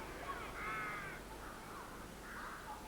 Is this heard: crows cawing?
yes